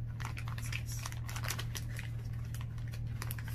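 A cat plays in crinkling paper packaging, making a steady run of close, papery rustles and crackles over a constant low hum, with no speech.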